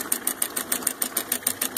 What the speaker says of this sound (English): Model of a steam engine. Doesn't run with real steam, but it certainly is a fun little rig.